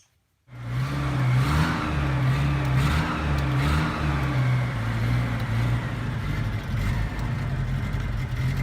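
A Mitsubishi Pajero (Montero) paddock basher's engine starts and runs without choke, holding a loud, close, rough and uneven idle that wavers throughout.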